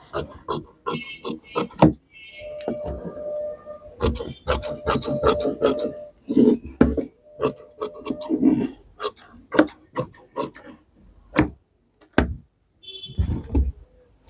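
Scissors cutting blouse sleeve fabric: a series of short crisp snips and rasping rubs of cloth, close and fairly loud, irregular with brief pauses between cuts, and no talk.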